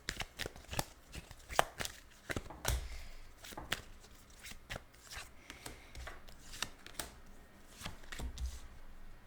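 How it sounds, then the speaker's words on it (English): Tarot cards are dealt out one after another with soft slaps and papery rubbing on a table, crisp and close, irregular taps throughout. "I'm just gonna lay out the cards here."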